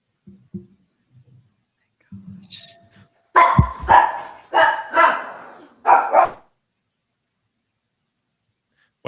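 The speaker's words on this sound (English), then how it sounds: "Why do they have a dog in court?" A dog barks four or five times in short, sharp bursts, loud and close, in a courtroom, after a stretch of quiet with faint murmuring.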